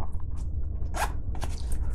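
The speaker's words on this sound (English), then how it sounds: "zips up nice" A zipper is pulled shut on a fabric gear pouch, giving a brief scratchy rasp near the middle among soft handling clicks over a low background rumble.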